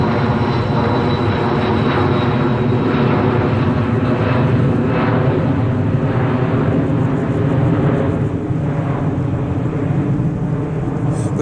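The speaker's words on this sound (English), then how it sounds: "The festival took place against a background of aircraft noise about that loud." Loud, continuous aircraft engine roar fills the whole stretch, a steady broadband drone with no break, heard on its own without voices.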